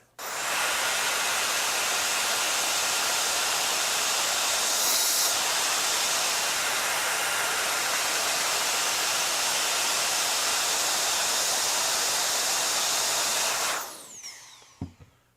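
Knockoff Ryobi cordless air duster blowing a strong, steady hiss of air at close range for about fourteen seconds before cutting off, followed by a few small clicks.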